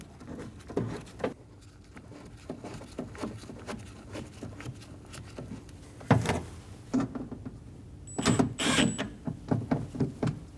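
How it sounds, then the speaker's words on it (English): Small metallic clicks, taps and handling noises while two bolts are started on a door lock actuator inside a Volkswagen Passat door, scattered and close, with a couple of sharper knocks partway through. "I'm going to get my 2 bolts started."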